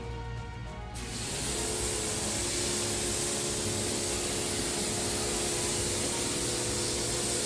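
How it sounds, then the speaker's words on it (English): Pressurized water spray rinsing a car's paintwork after clay bar decontamination, starting abruptly after about a second and then holding as a loud, steady, close hissing rush to the end, with no talking. "We're gonna go ahead and rinse this off."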